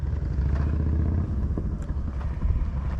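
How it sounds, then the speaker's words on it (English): Motorcycles pass in the background along a trail at Badlands National Park in South Dakota, a low, steady engine rumble that holds throughout, fairly faint and without talk. "You can hear the motorcycles in the background."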